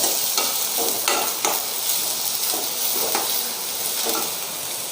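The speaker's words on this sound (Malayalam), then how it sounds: "ഒരു സവാള ചെറുതായി അരിഞ്ഞത് ചേർത്ത് കൊടുക്കുന്നുണ്ട് കേട്ടോ" Finely chopped onion frying in hot coconut oil, a loud continuous sizzle broken by repeated stirring scrapes at a steady pace, close to the pan with no voices.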